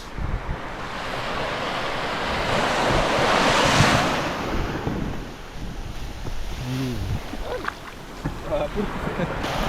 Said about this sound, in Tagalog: Ito po yung dagat. Wow, dagat!